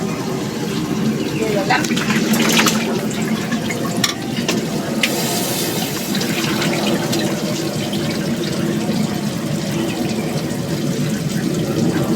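Water poured into a cooking pot of chicken, a loud, continuous gushing splash up close that runs the full length, with some talk over it.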